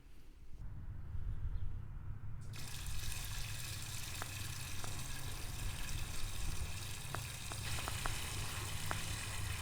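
Water rushes steadily through a Gardena water valve as it fills a pool, a constant broadband hiss and splash that surges louder after a few seconds and continues alone, with a few faint clicks.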